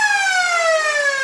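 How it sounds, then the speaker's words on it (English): The end-of-match siren sounds at Balwyn Park during an Australian rules football game between Balwyn and Knox: one loud, sustained, steady tone whose pitch drifts slightly downward. "And there's the siren."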